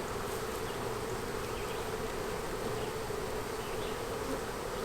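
Dense, steady buzzing of many honeybees close by around hive frames, continuous throughout with no voices.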